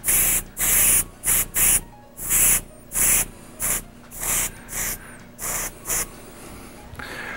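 An airbrush or spray gun lays paint onto a mule deer taxidermy mount in about a dozen close hissing bursts, each lasting half a second to a second, with short pauses between them.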